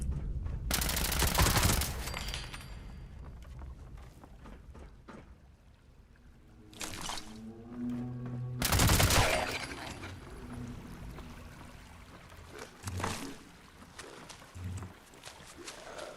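Bursts of automated turret gunfire in the video game Fallout 76, loud rapid volleys near the start and again around the middle, separated by quieter game ambience.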